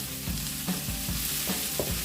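Brussels sprouts frying in a pan with bacon and onions, a steady close sizzle with a few soft stirring scrapes and thumps of the food being moved around, no voices.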